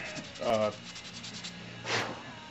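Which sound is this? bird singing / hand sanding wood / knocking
hand sanding wood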